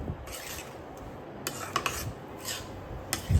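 A spoon scrapes and stirs roasted makhana, grated coconut and other dry-roasted ingredients for ladoo in a pan, giving soft close rubbing with a few sharper clinks against the metal.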